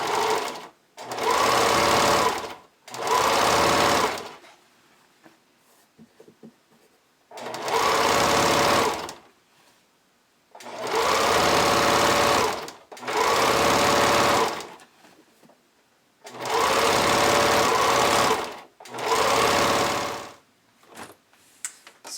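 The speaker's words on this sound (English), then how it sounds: "I'm going to use a zigzag stitch to attach the elastic around the upper edge" A sewing machine zigzag-stitches elastic onto the upper waist edge of high-waist bikini bottoms, running in about seven loud, steady bursts of a few seconds each, separated by short quiet pauses.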